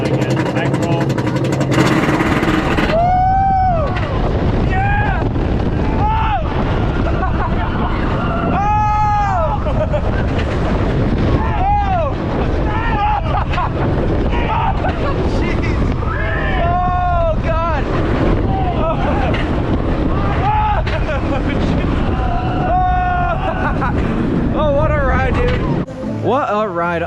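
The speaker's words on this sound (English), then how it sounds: "That coaster just continues to amaze me the more it warms up." Riding the Untamed roller coaster at Walibi Holland in Biddinghuizen, Netherlands: loud, continuous wind roar and rumbling track noise, with repeated rising and falling screams from riders and shouted voices throughout.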